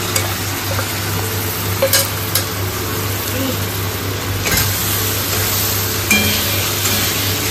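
A paste of ground cumin and coriander mixed with water fries in hot oil with a steady close sizzle, broken by brief stirring scrapes and a faint clink, under a low constant hum and no speech.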